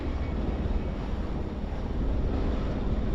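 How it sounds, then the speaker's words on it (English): Wind gusting across the Nile River at Aswan, with water movement beneath it. A steady, loud, broadband rush buffets the microphone throughout, with no voices. "This is the Nile River at Aswan."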